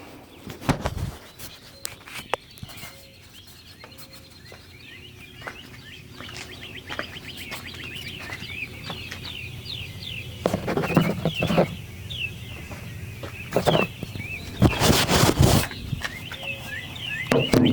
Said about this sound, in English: There'll be nothing else, just this if you want to listen to the birds.